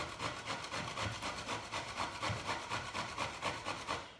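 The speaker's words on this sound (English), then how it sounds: "I'm going to take my grater. I'm going to grate my courgette." A courgette is rubbed against a kitchen grater in quick, regular rasping strokes, about three per second, close and continuous with no talking.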